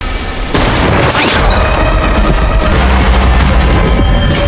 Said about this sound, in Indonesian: beruntung tembakannya meleset sob